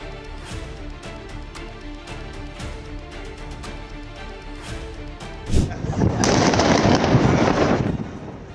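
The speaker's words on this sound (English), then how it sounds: "A high-impact explosion occurred at Cologne-Bonn Airport involving 2 planes." A stretch of scattered rhythmic pops and bangs, then a sudden heavy blast of an explosion involving two planes at Cologne-Bonn Airport, followed by a loud, sustained roaring rush.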